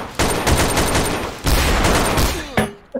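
Gunfire in the video game Trouble in Terrorist Town bursts out in loud, rapid automatic volleys, with two long sustained bursts close by and a short final burst before it cuts off.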